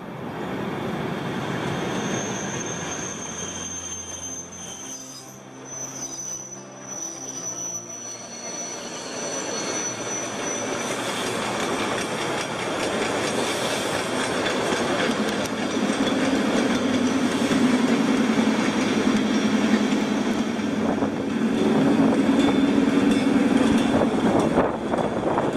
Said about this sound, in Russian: Люблю стук поезда.